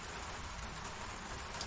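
Steady rain falls outside on a mild, roughly 70-degree October day, a continuous even hiss with no distinct drops standing out and no talk.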